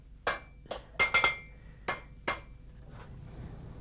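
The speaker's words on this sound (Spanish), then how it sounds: "eleva la temperatura a 1400 grados en la fragua y golpea la unión de las piezas" Blacksmith hammering the joined pieces of a farm spade at a forge heated to 1400 degrees, about six sharp metallic blows in an uneven rhythm, close and clear, followed by a low background hiss.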